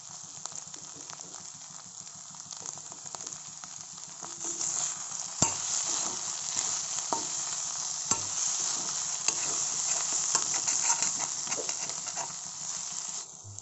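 Pre-boiled fish with chopped tomato fries in a pan, a steady sizzle and hiss with occasional stirring scrapes and clinks, rising slightly in intensity midway.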